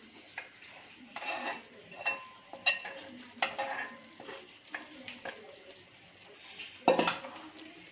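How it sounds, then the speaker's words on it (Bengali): A spoon scrapes and clinks against a cooking pot while haleem is stirred, giving irregular metallic knocks and scrapes about once a second with a brighter clatter near the end over a faint background. "নেড়ে ছেড়ে দিচ্ছি।"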